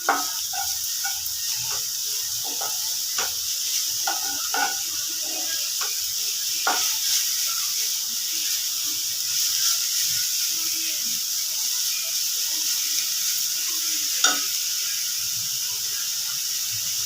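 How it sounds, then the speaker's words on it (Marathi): Garlic and fenugreek leaves sauté in oil with a little salt, giving a steady soft sizzling hiss with occasional light clicks and stirring taps, close and continuous. "मेथीला ना आपल्याला तेलावरती चांगलं परतवून घ्यायचं आहे, लसूण आणि मेथी"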